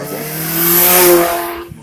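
A motorcycle passes behind on a road, rising to a loud, steady engine drone that swells and fades over a couple of seconds with no talk.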